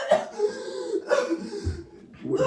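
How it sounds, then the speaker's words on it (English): Someone indoors coughs in a couple of short rough bursts, with breathy throat sounds and little else around. "I was just coughing."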